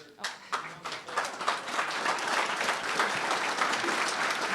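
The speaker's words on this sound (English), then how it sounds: "let's give them another round of applause" An audience at a dairy farm tour event gives a sustained round of applause, dense clapping building quickly and holding steady for several seconds.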